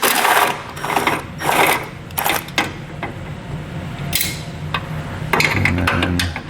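Power tool with a 10mm socket spinning bolts out of a 2016 Chevrolet Equinox during base plate installation, in short loud whirring bursts separated by pauses and metallic clinks.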